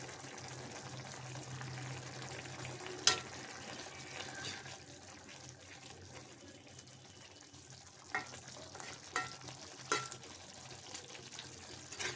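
Small fish being stirred as they fry dry in a pan with coriander leaves, giving a steady soft sizzle with a few sharp utensil scrapes and clicks scattered through, close and alone with no talking.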